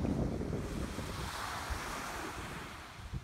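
Surf rolls steadily onto a beach at Cliff Head campground north of Arrowsmith in Western Australia, with a continuous wash of waves and wind buffeting the microphone and no voices.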